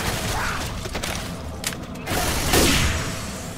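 A weapon being reloaded in Left 4 Dead 2, a run of close mechanical clicks, clacks and metallic rattles over a dense background of game noise, with a heavier thump near the end.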